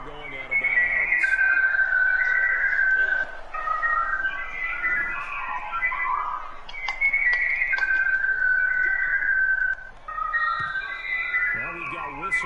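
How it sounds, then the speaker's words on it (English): Referee whistles sound during an NFL football video game in the NFC Championship against the Packers, with a flag going against Washington. Shrill, sustained whistle tones repeat across the clip over steady crowd noise and commentary. "Now we've got whistles here before the snap"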